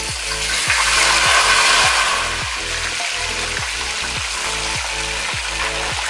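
Fish frying in a covered pan on a stovetop, a steady close sizzle with repeated rhythmic knocks or bubbling pops underneath, slightly louder at first then settling.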